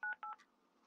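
Telephone keypad tones from a Roblox hotel game: two sharp, loud dial beeps followed by a softer third tone that fades into a faint hum, with no talking.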